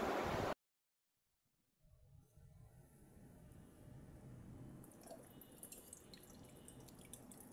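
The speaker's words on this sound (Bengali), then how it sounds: "ঘটির মধ্যে জল রাখলাম, দেখো ডাবের জল দিলাম।" Coconut water trickles and drips into a small metal pot during a home puja, a faint, soft liquid pour beginning after a brief silence and continuing quietly with scattered splashes.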